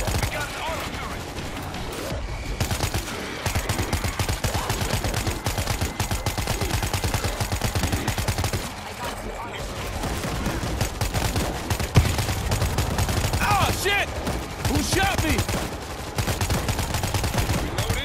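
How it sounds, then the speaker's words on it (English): Automated turret in the World War Z video game firing sustained bursts of gunfire, dense and loud throughout amid chaotic combat noise, with game voices talking over it. "We got an auto turret!"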